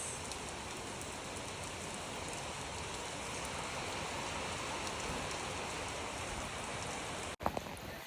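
Heavy late-monsoon (Bhadon) rain falls continuously in a broad, steady wash of noise, briefly cut off near the end before a knock and the rain returns.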